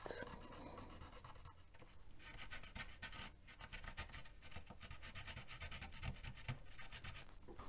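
A fiberglass pen scrubs corrosion off a Commodore 128 circuit board with a quiet, close, continuous scratchy rasping, in rapid back-and-forth strokes.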